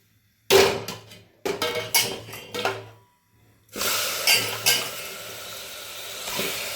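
Mutton pieces dropped into hot tempering oil in a cooking pot, bursts of sizzling and frying with scraping and clattering of a utensil against the pot, then a steady loud sizzle.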